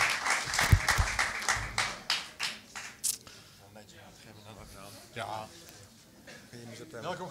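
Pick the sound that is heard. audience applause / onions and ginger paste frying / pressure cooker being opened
audience applause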